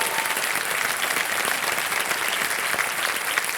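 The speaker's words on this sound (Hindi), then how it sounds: "तालियां बज जाने के लिए" Studio audience applause on a televised quiz show, steady dense clapping from a large crowd filling the whole stretch at even loudness with no voices over it.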